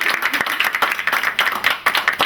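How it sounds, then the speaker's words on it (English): An audience gives a short burst of applause for Hannah Nussbaum at a recognition event, dense overlapping hand claps from a small indoor crowd, moderately close and steady throughout. "One big round of applause."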